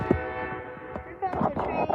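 An SJ train on the OKJ line, hauled by locomotives 8314 and SC44 Charger 2107 with a Venture set, approaches slowly. A sustained, tonal horn sounds faintly in the distance over low rumble, and a voice is briefly heard.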